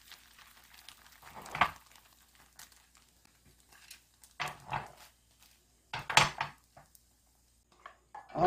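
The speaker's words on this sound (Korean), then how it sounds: "계란 부친 데다가 그 잔열로다가 이렇게 조금 살짝 볶아주세요" Stir-frying in a pan still warm from frying egg, heard as a few separate bursts of scraping and crinkling against the pan, short and fairly soft, with quiet gaps between them.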